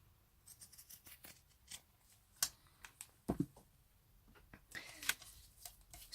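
Scissors cutting lace down to size for a handmade journal craft give a few soft, close snips and rustles separated by quiet pauses.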